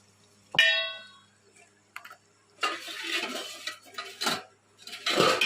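A metal spoon clangs sharply against a pan once, then scrapes in short irregular bursts as chili powder is stirred into sambar masala. The sounds are close and there is no talking.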